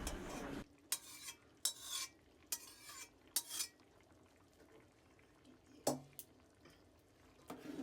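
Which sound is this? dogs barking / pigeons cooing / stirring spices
stirring spices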